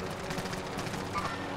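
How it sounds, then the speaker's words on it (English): Gunfire aimed at the player in a first-person shooter, a steady stream of fast crackling shots under dense game noise that runs the whole moment without a break. "They're shooting at me."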